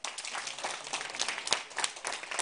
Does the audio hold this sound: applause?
yes